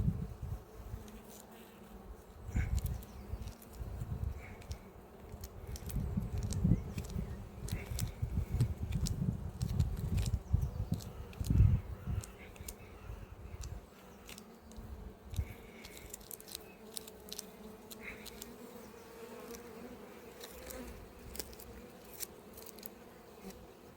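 Honeybees swarming around an apiary hive in spring give a dense, continuous low buzz that swells loudest midway and then thins, with sharp clicks and taps from hive handling scattered through.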